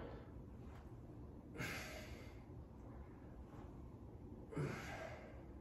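Two faint, forceful exhalations during an abs workout, spaced a few seconds apart, each a short breathy puff over a quiet room background.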